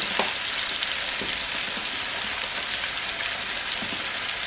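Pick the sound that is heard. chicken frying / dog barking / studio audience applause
chicken frying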